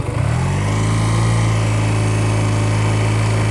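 A motorcycle engine rises from idle into a steady, loud drone as the rider releases the clutch, holding a strong continuous tone close by with no talk over it.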